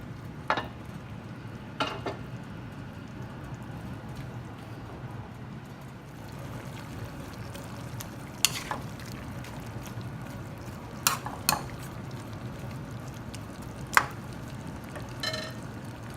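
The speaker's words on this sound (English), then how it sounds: "Now we're gonna add the onion." Onion frying in a pan for bistig Kapampangan, a steady low sizzle running throughout with occasional spoon scrapes and clicks from stirring, quiet and close.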